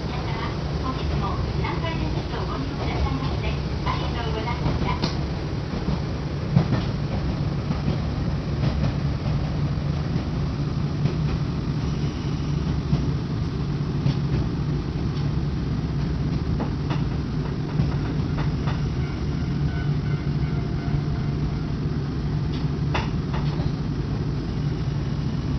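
Nankai Takashinohama Line train running on ground-level track, a steady rumbling drone with faint rail clicks throughout, close and continuous with no speech.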